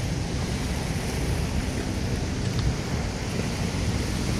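Steady, loud wash of water waves rolling in at Manila Bay, a constant broadband roar with no pauses or voices.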